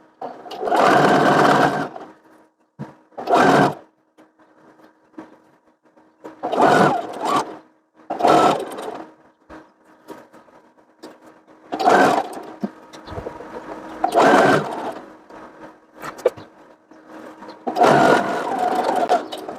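Sewing machine stitching fabric for a lined child's dress with a ruffled yoke, running in repeated short bursts of whirring separated by pauses, close and fairly loud, with a little faint talk between runs.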